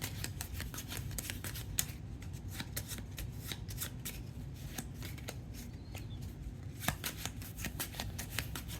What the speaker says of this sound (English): So we're going to see if I can do better this time on the shuffle.